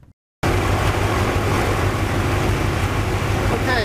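A Rotax 912 aircraft engine running steadily and loudly after a brief silent gap, its throttle opened slightly during carburetor synchronization, with a continuous droning hum and no talk over it.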